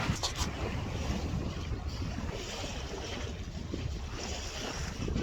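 A sailboat cruising at about 6 knots across Colwyn Bay gives a continuous loud rush of water and waves along the hull, mixed with steady wind buffeting the microphone.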